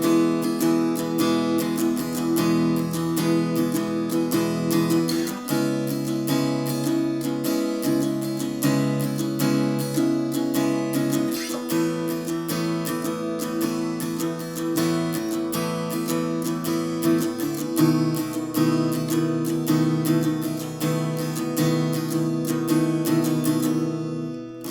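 Acoustic guitar strumming the chorus chords of a song, a steady rhythmic pattern of full chords ringing on alone at a moderate, even volume throughout.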